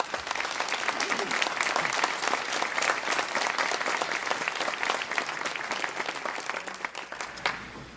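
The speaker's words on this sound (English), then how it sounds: "Let's give her a round of applause." Sustained audience applause at a Common Core education forum in Clovis, California, steady dense clapping throughout with a slight swell near the end.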